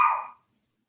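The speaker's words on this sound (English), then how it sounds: "My dog." A single short dog bark, close and clear, fading quickly into silence.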